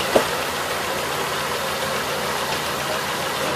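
A junkyard car engine idles steadily after an engine treatment and burn-in, a loud, even mechanical drone with a faint rhythmic knock running throughout, close up with no talking.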